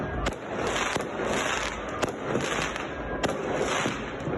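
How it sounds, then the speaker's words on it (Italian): Fireworks and firecrackers go off at New Year in Belluno: rapid, repeated sharp bangs and crackling bursts at irregular intervals over a continuous fizzing, sparkling hiss of fountains, moderately distant and unbroken. "un tripudio di fontane scintillanti e di botti esplosi per oltre un'ora senza soluzione di continuità"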